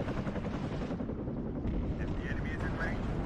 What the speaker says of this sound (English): Cobra's coming in for the landing next to the supply chopper to get those rockets